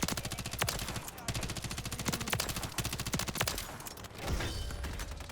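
Rapid sustained automatic fire from a BAL 27 rifle in Modern Warfare 3, dense repeated shots in long bursts with brief gaps, loud and close.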